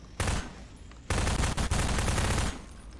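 Rapid automatic gunfire in a ragdoll video game, a short burst followed by a longer sustained volley of dense, loud shots, close and with no talking.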